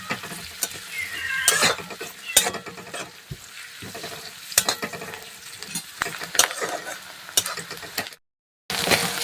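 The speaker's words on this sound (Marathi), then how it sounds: "कांदा सुद्धा छान लालसर रंग येईपर्यंत तळून घ्यायचा आहे" Finely chopped medium onion frying in a pan toward a reddish colour for upma, a bright crackling sizzle punctuated by repeated spatula scrapes and clinks, close by, with a brief drop to silence near the end.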